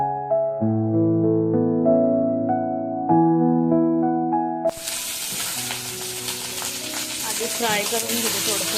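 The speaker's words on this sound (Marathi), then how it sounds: "तेलात भेंडी फ्राय" Okra hits hot oil for a loud, continuous sizzle that swells and holds close to the microphone, coming in after a stretch of melodic background music.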